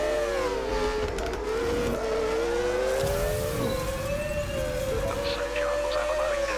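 A racing car engine in a 1980s Grand Prix video game holds a steady, high, whining drone that stays loud and constant as it drifts only slightly in pitch.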